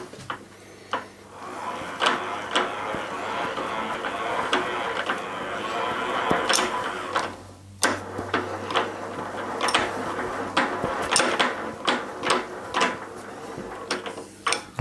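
A tap, driven by a machine, cutting threads into metal in a workshop: irregular clicks, creaks and sharp ticks repeat over a steady mechanical hum, getting busier toward the end.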